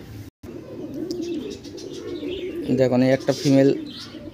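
Pigeons coo softly, including a female patta pigeon, while someone talks over the low, rolling calls nearby.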